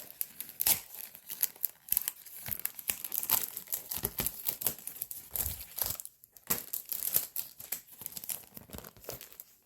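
Plastic packaging around a six-piece sticker set is torn open by hand, with close, busy crinkling and ripping bursts throughout and a short lull near the middle.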